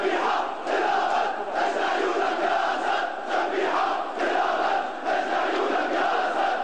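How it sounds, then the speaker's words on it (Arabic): Crowd gathered near a bomb blast site in Damascus, shouting and chanting slogans together in a dense, steady roar of many voices that keeps going for the whole stretch. "المواطنون الذين تجمعوا قرب مكان التفجير منددين بالعمل الإرهابي، مطلقين هتافات"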